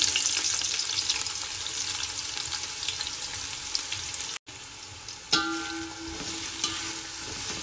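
Whole garam masala and sliced onions fry in ghee with a steady broadband sizzle and stirring scrapes, a brief dropout midway, then clinks as stirring resumes; no talk.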